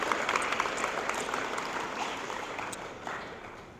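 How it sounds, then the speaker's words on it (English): Audience applause at a 2023 senior awards ceremony: a dense, steady crackle of many hands clapping that fades slightly toward the end. "Give him a big round of applause."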